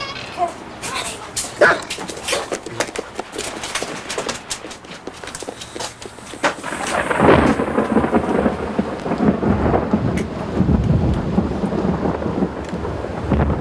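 Scattered raindrops and crackles give way to a deep rolling rumble of thunder that builds midway, with steady rain continuing to the end.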